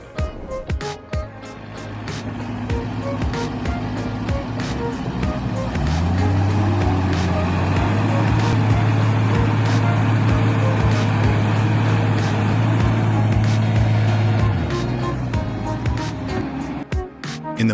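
A large tractor's engine roars and strains under heavy load while dragging another stuck tractor out of deep mud, a loud sustained droning that rises in pitch midway and then settles.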